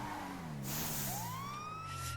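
A siren fitted to a modded Polonez car in GTA 5 rises in a long sliding wail over the low hum of an engine, with a brief burst of broadband noise in the middle, heard fairly faintly.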